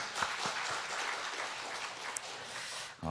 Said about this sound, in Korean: 우리 마리아 여전도의 우리 기쁨으로 박수 한번 축복할까요?